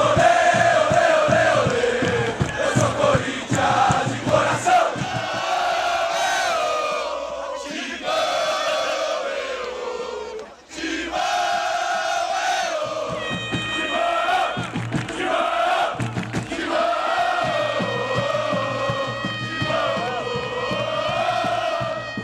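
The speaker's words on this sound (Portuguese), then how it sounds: "A torcida do Corinthians cantava aquela música Vamos Corinthians" Corinthians football supporters chanting and singing together in a stadium, a loud massed crowd roar with rhythmic shouted chant lines, brief dips and surges, sustained across the whole span.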